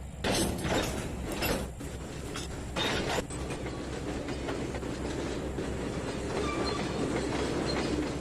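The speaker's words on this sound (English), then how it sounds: "Throw the reverser into reverse. Throttle up." Diesel locomotive in Trainz 2019 rail simulator, reverser thrown into reverse and throttle opened: a steady rumbling engine drone with rail clatter and mechanical clanks, loud and continuous with no talk.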